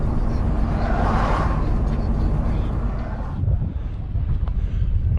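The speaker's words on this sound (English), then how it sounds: "It's very windy" Strong wind at Stonehenge roars and buffets the microphone continuously, a dense low rumble with gusting swells and no other clear sounds.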